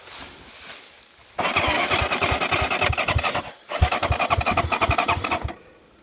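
An enduro motorcycle engine revs hard in two long bursts while stuck in a bog, a rapid throbbing roar close by with a short pause between them.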